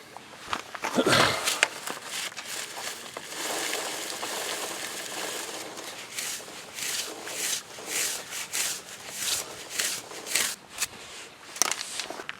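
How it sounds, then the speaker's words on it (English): A brush with all-purpose cleaner and degreaser scrubs the wheel of a Honda motorcycle on a stand while the wheel spins, giving close, repeated rubbing strokes in an uneven rhythm. "Makes it a lot easier to scrub when you can spin it like this."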